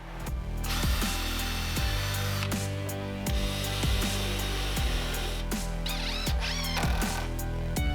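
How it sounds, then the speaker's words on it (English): A power drill countersinks screws into a wooden dining table leg, a continuous motor whir with repeated short bursts and clicks as the bit bites, close and steady throughout. "I'm going to make sure I have to countersink just a little bit so they sit in"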